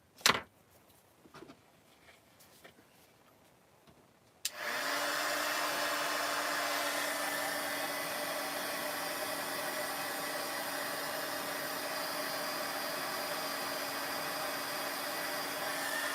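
A heat tool switches on and blows hot air steadily over a craft potion bottle, a loud continuous whirring hiss with a steady hum that holds for over ten seconds after a few quiet handling sounds.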